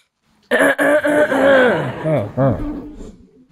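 A person coughs and clears their throat several times in quick succession, close and loud, with a little chuckling mixed in.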